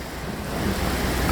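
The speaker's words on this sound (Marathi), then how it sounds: "आज जोरदार पाऊस झालेला आहे आणि गेल्या अर्ध्या तासापासून हा पाऊस चालू आहे" Heavy, steady rain roars on a waterlogged street in Nashik Road as a dense wash of noise, building slightly toward the end, with no voices.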